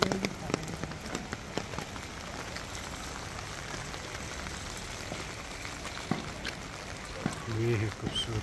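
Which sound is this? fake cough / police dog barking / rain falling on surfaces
rain falling on surfaces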